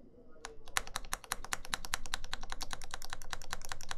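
Rapid clacking of keys being typed on a Caustic Custom TGR 910SE mechanical keyboard during a build, with a slightly rattly character, a steady fast rhythm of close, crisp strikes, and a voice talking underneath.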